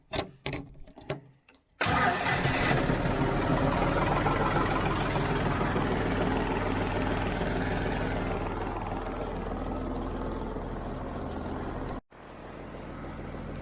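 A John Deere tractor engine starts with a few short cranking bursts, then catches and runs loud and steady close by for about ten seconds, briefly cuts out, and resumes running.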